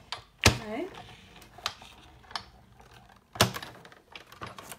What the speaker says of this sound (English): we're going to crank our handle and die cut these guys